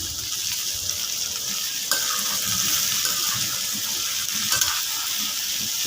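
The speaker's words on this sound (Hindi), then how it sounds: "अच्छे से भिंडी को फ्राई करना है आप लोगों ने, जैसा कि हम लोग कर रहे हैं।" Okra (bhindi) frying in oil and stirred in a pan for a bhindi gosht curry: a loud, continuous close sizzle with occasional scraping clatters of the spoon.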